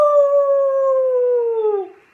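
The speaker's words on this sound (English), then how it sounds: "Suddenly a terrible howl" A single long howl, wolf-like and loud, holds a steady pitch and then slides down and fades after about two seconds.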